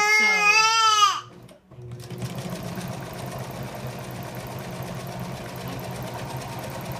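Sewing machine stitching four stacked fabric pieces together for a baby bucket hat, a steady continuous run following a brief crying-like voice at the start.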